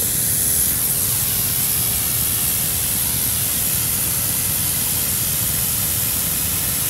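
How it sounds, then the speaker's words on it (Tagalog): A sprayer steadily mists chelated calcium solution over rice seedlings, a continuous loud hiss of spray lasting the whole time with no pauses or talk. "Ganyan po dahan-dahan yung ating gagawin na pag-spray."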